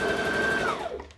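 A sewing machine runs steadily while stitching with its bobbin, a close continuous whirring hum that winds down and slows near the end of the short burst.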